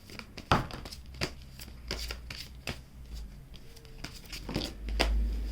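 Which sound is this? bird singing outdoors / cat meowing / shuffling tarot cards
shuffling tarot cards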